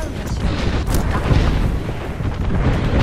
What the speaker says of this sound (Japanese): 空爆だと、まずい